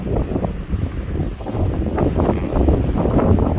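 Outdoor wind blows steadily across the microphone near a rice field, a continuous low rumbling gust with no clear voices.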